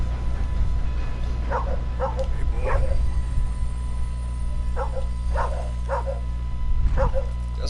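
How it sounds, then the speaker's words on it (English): A Bluetick Coonhound in Red Dead Redemption II gives a run of short barks and yips in loose bursts, some doubled, over a steady low background hum. "Blue Tick Coonhound."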